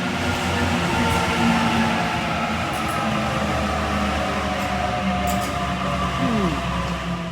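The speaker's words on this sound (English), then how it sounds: "here comes the train now" A Sydney train pulls into the curved platform at Waverton station with a loud, continuous rumble and hum, and a brief rising wheel squeal near the end.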